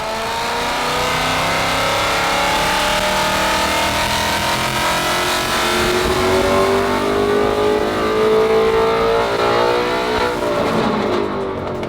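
A Ford Coyote V8 in an S550 Mustang GT revs hard through a sustained dyno pull, its loud, steady engine roar climbing in pitch for about ten seconds before easing off near the end, with no voices present.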